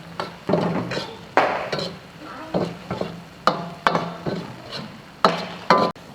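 Mixed chilies tossed with salt in a wok, the spatula scraping and clanking against the metal in sharp, irregular strokes over a soft sizzle.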